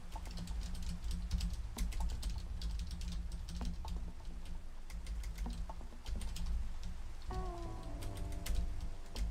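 Steady, rapid typing on a computer keyboard, dense clicking keystrokes close by with a low hum underneath and a brief faint tonal sound near the end.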